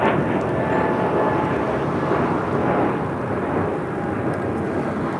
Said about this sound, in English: taking off to Richmond, Virginia on an A220-300